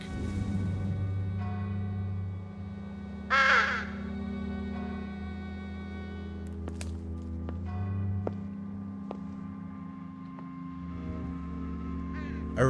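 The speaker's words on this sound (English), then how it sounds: "Large black crows are watching me." Crows caw in an isolated graveyard by a castle-like church in the video game The Lost Crown, harsh calls heard a few times over a low droning ambience.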